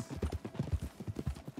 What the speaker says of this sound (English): I don't want to be riding on a horse all day